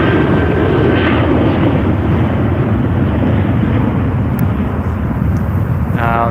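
A Boeing 737-800 jet on the Adelaide flight takes off at night with an early rotation, a loud, steady roar of jet engines with wind buffeting the microphone nearby.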